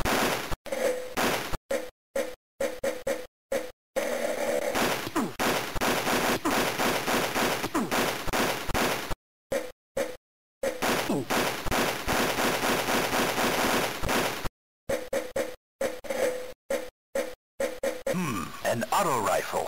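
Auto rifle gunfire in the Game Boy Color Army Men game: rapid, continuous chiptune bursts of automatic fire, loud and close, broken by a few brief silent gaps, with speech faintly mixed in.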